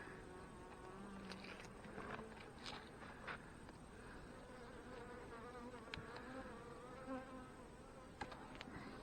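Honey bees buzz steadily in an open hive during a late-season fireweed honey harvest, a close, continuous droning hum with a few faint knocks and rustles over it.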